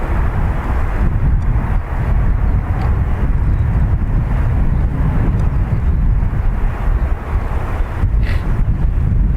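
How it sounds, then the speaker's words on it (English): A Challenger 350 business jet departs Dublin Airport, heard as a loud, sustained broadband roar with heavy wind buffeting on the microphone, steady from start to finish with no voices. "another Challenger 350, also off to Faro"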